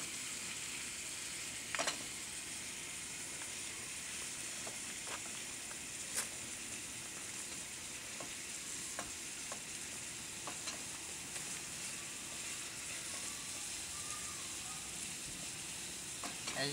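A pan sizzles steadily over a small campfire flame while corn and hot dogs cook, a continuous close frying hiss with a few faint clicks and taps and no talking.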